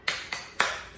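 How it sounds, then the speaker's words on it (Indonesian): Three sharp, separate hand claps spaced at an even pace, close and crisp, from a teacher leading a rhythmic classroom clapping routine called tepuk semangat before a lesson; nothing else sounds between them. "kita tepuk semangat dulu yuk"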